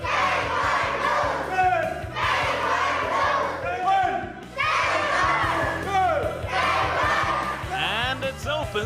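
A taekwondo class shouts in unison, loud repeated group battle cries in bursts of a second or two, echoing in an indoor hall with a busy crowd murmur underneath.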